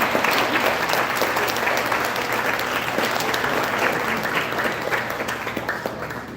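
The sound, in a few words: banquet audience applause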